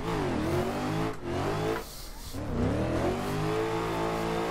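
A race car in Assetto Corsa climbs through third gear, its engine note rising in a loud close wail, dipping briefly while shifting, then revving up again steadily with no talk.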